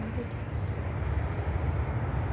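An airplane passes overhead, not far off, giving a steady, loud low-pitched roar with a broadband rush that holds evenly throughout.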